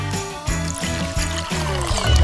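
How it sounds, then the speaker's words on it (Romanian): Water pours into a bottle in a continuous close gurgle with rising pitch, steady and near, briefly filling the whole moment alone. "O să-mi mai torn puțină apă!"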